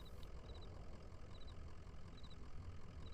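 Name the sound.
moving truck engine rumbling softly, from video game Kentucky Route Zero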